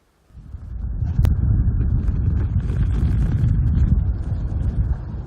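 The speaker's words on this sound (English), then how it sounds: "Super windy, super snowy conditions." Strong, steady wind roaring across a snowy mountain summit around 12,300 feet, a constant low buffeting rush that fills the whole stretch, loud and close to the microphone, with no voices.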